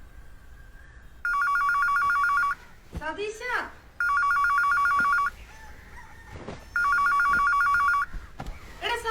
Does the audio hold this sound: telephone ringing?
yes